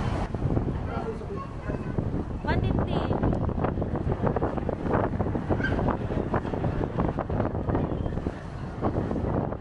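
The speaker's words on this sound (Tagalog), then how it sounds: "Mahangin sa labas." Strong gusts buffet the microphone with heavy rumbling wind noise on a moving boat on choppy sea near Boracay, while a person speaks briefly over the roar.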